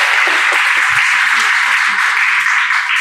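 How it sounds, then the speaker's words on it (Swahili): A church congregation applauds together in a dense, steady wash of clapping that holds at an even loudness for the full stretch, with no voices coming through. "Simpigie Yesu makofi tafadhali."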